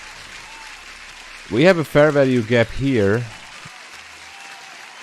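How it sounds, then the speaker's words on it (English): Applause sound effect in a live trading stream, soft continuous patter of clapping under someone talking. "Applause."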